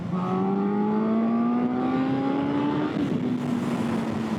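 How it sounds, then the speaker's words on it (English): A Yamaha FZ1 1000cc motorcycle of about 150 hp, ridden in third gear near 90 km/h, pulls hard at open throttle. Its engine note climbs steadily and stays loud and close throughout. "so if I gear shift to, let's say, 3rd gear, and we'll go about 90 kilometers an hour, and if I just open the throttle"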